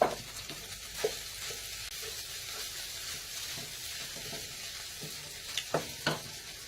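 Food fries in a pan with a continuous close sizzle, broken by several scraping, clattering stirs, including a quick cluster near the end, and no one speaks.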